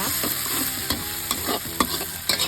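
Thai curry paste stir-fried in a pan, a loud close sizzle with repeated scraping strokes of the spatula, irregular and busy, with nobody speaking.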